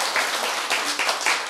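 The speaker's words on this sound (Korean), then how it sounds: "박수." Brief burst of audience clapping during a lecture, a short dense patter of hands lasting about a second and a half, moderately loud with no talk over it.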